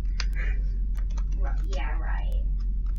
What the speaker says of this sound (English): Nobody shoot me. I'm typing.